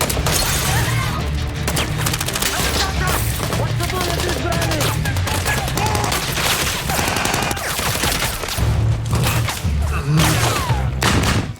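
Dense gunfire from the film The Gray Man, mercenaries shooting on police and civilians: continuous loud bursts and rapid shots with crashes layered over a low music rumble, flaring heavier near the end.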